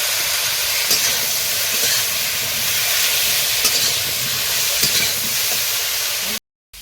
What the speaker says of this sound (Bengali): বেগুন আলুটা কষানো হয়ে গেছে